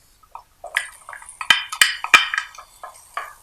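Onions stir frying in hot oil in a pot, giving close, irregular sizzles and crackles with clinks of a utensil against the pot, alone without talk.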